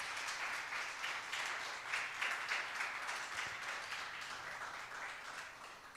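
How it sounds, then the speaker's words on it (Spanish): Congregation applauding the Lord during a church service, a steady wash of clapping from many hands that stays even and moderately loud throughout, with no talking over it. "Dele un aplauso por favor al Señor."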